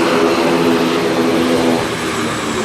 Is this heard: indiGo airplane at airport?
yes